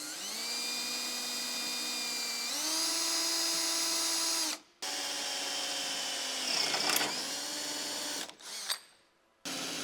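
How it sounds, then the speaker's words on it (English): A power drill with a 1/4 inch bit drills through aluminum while a car wing is installed, giving a loud sustained whine that rises in pitch partway through, with brief stops, a short grinding burst and a final cutoff. "This is a 1/4 inch drill bit, by the way."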